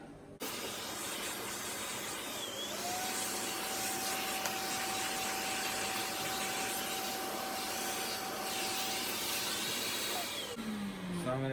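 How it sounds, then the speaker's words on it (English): A Hoover Senior U4058 upright vacuum cleaner runs steadily and loudly for about ten seconds, a constant motor whine with a rushing airflow hiss as it picks up dust, then spins down at the end. "Let's get the vacuum."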